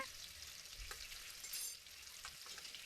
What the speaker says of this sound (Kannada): ನಂತರ ಸಣ್ಣ ಉರಿಯಲ್ಲಿ ಇದನ್ನು ಹುರಿತಾ ಇದ್ದೇನೆ